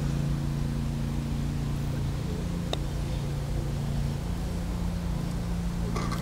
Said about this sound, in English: there's a tractor in the background here